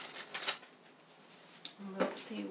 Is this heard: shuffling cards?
yes